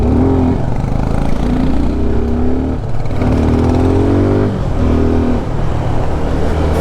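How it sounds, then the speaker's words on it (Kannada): A Suzuki Gixxer street motorcycle being ridden on a hill road, its engine loud and close, repeatedly rising in pitch as it accelerates through gears with short dips between pulls. "ಇವಾಗ ನಾವು ಸುಜುಕಿ ಜಿಕ್ಸರ್ ಓಡಿಸೋಣ"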